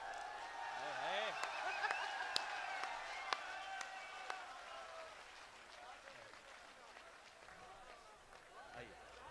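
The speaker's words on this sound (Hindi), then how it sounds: "आपकी जोरदार तालियों के बीच" Audience applause at a Hindi kavi sammelan (poetry gathering): a dense, sustained patter of clapping that gradually thins out, with a speaking voice carrying over it.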